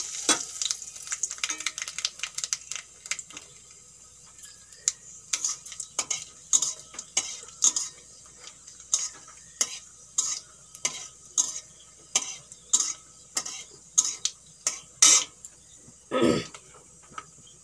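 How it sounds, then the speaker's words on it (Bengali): Black cumin seeds and three dried red chillies crackling in hot oil, with a long run of sharp, close spatula clacks and scrapes against the pan over a faint sizzle. "এখন আমি কালো জিরে দিয়ে দিচ্ছি তেলের উপরে আর 3টে শুকনো লঙ্কা"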